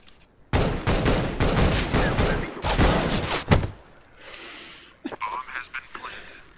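Rapid video game gunfire shooting into the ground, a dense burst of loud shots over about three seconds that then gives way to quieter game sounds, with voices talking over it.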